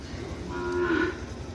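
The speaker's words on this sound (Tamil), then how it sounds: "இங்கே மாடு கத்துது, இங்கே அடையாளம் போய் மாடு கத்துது." A cow lets out a single sustained moo in a Tamil village setting on a hot day, fairly close and loud over a steady low background rumble, with no talking.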